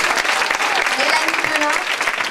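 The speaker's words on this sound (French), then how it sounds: "je veux qu'on les applaudisse bien fort" Loud, dense applause from an audience at a pleading competition final fills the whole stretch, steady clapping with no pauses.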